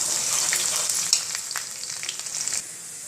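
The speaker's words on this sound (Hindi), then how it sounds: "अब लहसुन भुन चुका है" Garlic sizzles in hot oil in a pan as the base for a potato and soy chunk sabzi, a steady close hiss broken by light stirring scrapes, with no talking.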